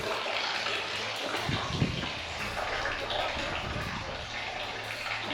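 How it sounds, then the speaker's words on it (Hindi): Water seeps and trickles continuously inside a small stone room at Kalinjar Fort, a steady wash of liquid noise echoing off the walls. "और कंटिन्यू इसमें पानी रिसता रहता है।"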